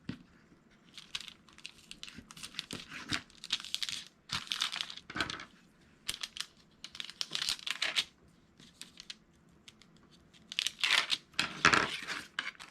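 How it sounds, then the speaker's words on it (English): Double-stick tape is pulled and torn into strips in short, crisp bursts of ripping and crinkling, close and fairly quiet, with pauses between pulls. "I'm just going to take some double stick tape and put 2 strips of that"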